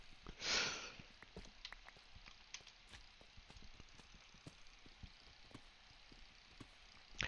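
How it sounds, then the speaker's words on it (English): A cat sniffs a chocolate chip muffin up close, giving one clear breathy snuffle followed by faint small clicks and snuffles over a low steady hum. "I'm having Charles sniff to make sure that my muffin isn't poisoned"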